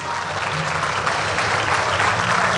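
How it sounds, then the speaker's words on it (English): A full-house audience at a Bahrain conference applauds a team, with steady, dense clapping throughout and a voice faintly audible beneath it. "one huge round of applause for Daniel and his team"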